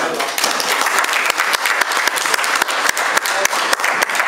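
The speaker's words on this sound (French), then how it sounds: "pour qu'on applaudisse pour les présentateurs" Dense audience applause for the presenters at a conference, loud and continuous, with sharp individual claps standing out across the whole stretch and no pause.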